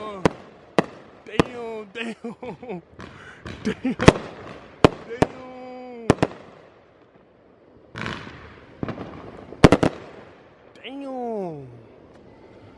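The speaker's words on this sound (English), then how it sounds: "it's fireworks outside popping" Fourth of July fireworks pop and crack outside in sharp, irregular bursts, some loud and near, with whistling rises between blasts while someone talks excitedly over them.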